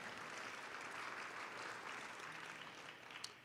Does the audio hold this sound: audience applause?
yes